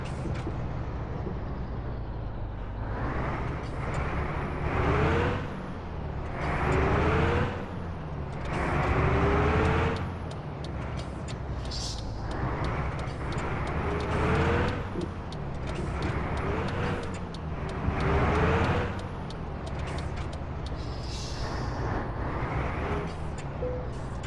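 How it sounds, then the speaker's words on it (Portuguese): A heavy truck in Euro Truck Simulator 2 slows and parks in a hotel lot, its diesel engine rumbling and revving in waves, with repeated air-brake hisses and a final release, steady and close. "Vamos parar o caminhão ali na vaga do hotel para a gente poder descansar."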